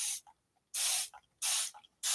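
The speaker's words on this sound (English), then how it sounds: "I have a spray bottle. I bought this little spray bottle. It's an actual ultra fine mist spray bottle for art." Ultra fine mist art spray bottle spritzing water, three short bright hissing bursts close up with pauses between and small clicks of the trigger, no talking.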